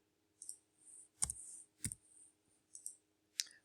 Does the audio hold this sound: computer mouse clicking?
yes